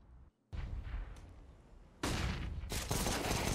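AK rifle fire in a Counter-Strike match, a short quiet gap, then dense rapid shots that swell into a louder, sustained burst toward the end.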